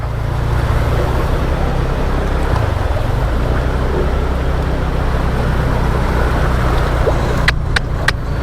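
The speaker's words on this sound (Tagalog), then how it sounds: "Umuugong na yung tambutso mga kapwa." A Yamaha NMAX 155 scooter's low exhaust roars steadily while crossing flood water, a continuous low droning hum with a few sharp clicks near the end.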